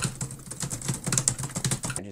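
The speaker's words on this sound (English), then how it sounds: "I'm just typing random numbers right here." Rapid clatter of keys on a computer keyboard as random numbers are entered, a dense run of close, crisp clicks lasting about two seconds before stopping abruptly.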